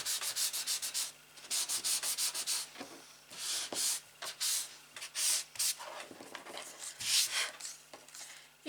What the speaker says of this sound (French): Petit coup de ponçage.